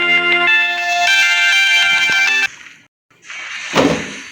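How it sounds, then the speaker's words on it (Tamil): A phone rings during a ranked mobile game session with a steady, melodic electronic ringtone for a couple of seconds, then a brief silence and a soft thump. "ஊடல டிஸ்டர்பன்ஸ் வந்துடுச்சு ஃபோன் வந்துடுச்சு"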